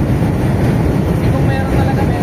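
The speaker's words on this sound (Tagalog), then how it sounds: "So yung LRT crossing to Pasig River Esplanade." A steady, heavy low rumble of a passing LRT light rail train crossing overhead near the Pasig River in Manila dominates, loud and continuous, with a faint high whine riding above it.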